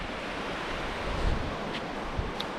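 Sea waves rolling in on a Lincolnshire beach during a low-water fishing session, heard as a steady broadband wash of surf with wind noise across the microphone and a couple of faint splashes, no talking.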